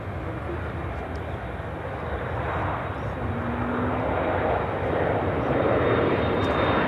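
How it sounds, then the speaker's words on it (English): An Asiana Airlines Boeing 747 arriving from Anchorage touches down on runway 27 Center at Chicago O'Hare, its engines a broad steady roar that swells gradually toward the end. "Now about to touch down 27 Center, Asiana Airlines 747 coming in from Anchorage, flight 2921."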